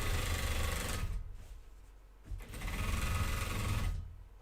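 A home sewing machine stitches denim jeans in two fast, loud, buzzing runs, close by, each lasting about a second or more, separated by a quieter pause with a brief mechanical clunk.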